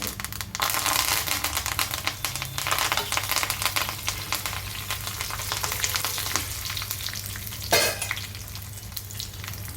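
Coriander leaves frying in hot tempering oil with mustard seeds, dried red chillies and curry leaves in a pan, a steady close crackling sizzle with sharp spits and a brief louder burst near the end.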